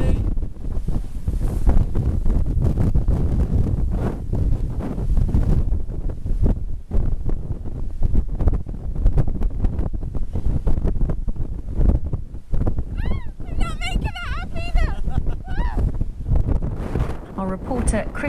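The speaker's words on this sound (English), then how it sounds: "Bit windy." Strong gusting wind from Storm Callum at Porthleven, Cornwall, roars and buffets the microphone loudly and continuously, with rough sea noise beneath and a person talking briefly near the end.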